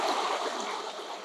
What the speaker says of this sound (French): alors ici la cascade paraît un petit peu plus importante